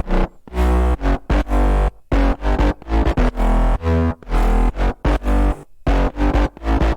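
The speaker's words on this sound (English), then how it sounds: "With all your bass together, your bass should sound like this." Layered future bounce basses built in FL Studio Mobile, sub bass and distorted bit-crushed brass stabs combined, pump out a dense, gritty, bouncing riff of choppy notes with short breaks, loud and without speech.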